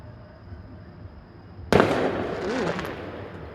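Christmas Eve fireworks exploding outdoors in a big open space: after quiet background hum, one loud sharp bang lands about halfway through, followed by crackling and whistling tails as it fades.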